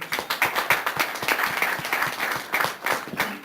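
Audience at a Republican women's forum applauding after opening remarks, a brisk patter of many hands clapping close by, steady for a few seconds and then thinning out.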